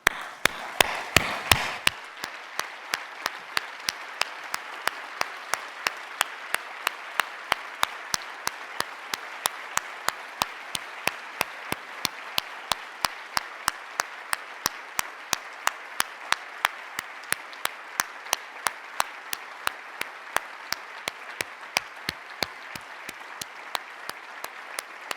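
Sustained standing ovation applause from an audience at a tribute ceremony, steady dense clapping that falls into rhythmic unison beats throughout, loud and continuous.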